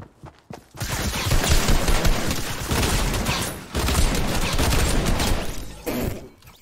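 Sustained bursts of automatic assault rifle fire in a Fortnite-style video game, loud and dense, rattling almost continuously with short pauses between volleys.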